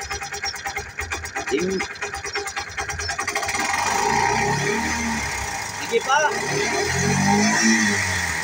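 A Piaggio Ape City 200cc carburetor engine with a no-start problem revs up to a steady, loud roar held for several seconds, with people talking over it.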